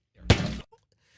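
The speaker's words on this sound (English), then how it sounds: "That is the Chiefs' egg exploding." An egg bursts inside a microwave with a single sharp, loud pop-thunk, followed by a brief faint rattle and quiet.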